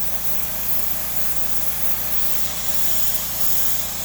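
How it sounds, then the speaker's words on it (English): Steady broadband hiss of spray paint from a can aimed at a mask to build soft overspray on metal, continuous and close for the whole stretch with no talk. "I'm spraying mostly on the mask."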